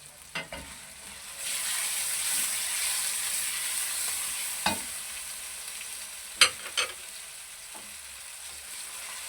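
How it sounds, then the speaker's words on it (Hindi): Chicken pieces frying in a pan with sliced tomato for a chana lauki curry, a steady hiss of oil with a few sharp clatters of stirring, no talk. "इसको हमने 5-6 मिनट खूब अच्छे तरीके से फ्राई करना, भूनना"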